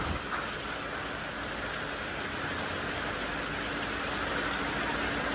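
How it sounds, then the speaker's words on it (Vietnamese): Hail pelting a road during a sudden storm on a cross-country trail trip in Vietnam, a steady dense patter of small stones, loud and continuous with a faint engine hum underneath. "Bất ngờ gặp cơn mưa đá này."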